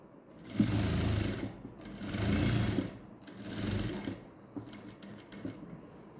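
A sewing machine stitches a blouse in three steady bursts of rapid needle clatter, then several shorter stop-start runs, close and clear, with no talking.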